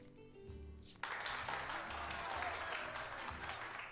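Audience applause breaks out suddenly and keeps going as a steady, full clatter of clapping in the card-based video game Voice of Cards: The Isle Dragon Roars, over a soft musical background.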